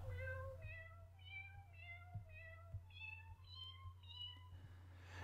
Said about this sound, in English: it's basically a piano that has a bunch of different cats that are pitched